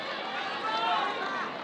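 Tennis crowd at the 2008 Barcelona Open final between Nadal and Ferrer, a dense, steady murmur of many voices filling the stands for under two seconds, with no distinct words standing out.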